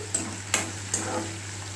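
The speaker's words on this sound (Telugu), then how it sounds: "ఉల్లిగడ్డలు బాగా ఫ్రై అయ్యే వరకు రెడ్ కలర్ వచ్చే ఫ్రై చేసుకోవాలి" Onions frying in a pan until reddish, for an okra fry: three quick scraping taps of a stirring utensil over a soft, steady sizzle, fairly quiet and without speech.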